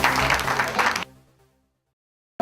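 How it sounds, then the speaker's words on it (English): A crowd at a live event claps for about a second, dense and loud, then cuts off abruptly into a fading tail and silence before a brief burst returns at the very end. "Ladies and gentlemen, warm round of applause for Ricardo McRae"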